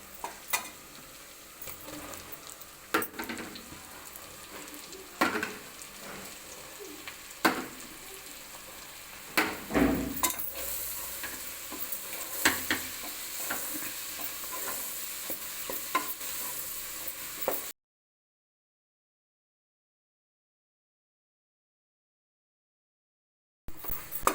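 Onion, ginger and garlic sizzle and crackle steadily in a hot pan, with occasional scrapes and clinks of stirring, then the sound cuts off abruptly.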